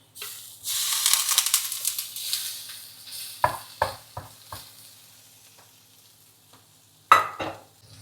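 Prawn pieces dropped into a hot pan of water spinach set off a loud burst of sizzling, then a few scraping stirs clack close by, quieter pauses between them, with no speech.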